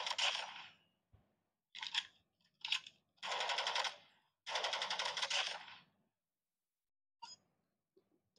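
Bursts of automatic gunfire from a Call of Duty match, several rapid volleys of varying length separated by silences, with a few isolated shots near the end.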